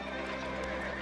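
Cartoon horse giving a loud, close whinny with hooves clip-clopping beneath it, one short continuous burst with no talk.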